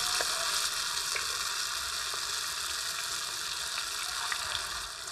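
Vegan longganisa sausage frying in a pan until golden brown, giving a steady close hiss and crackle with small pops throughout and no talk.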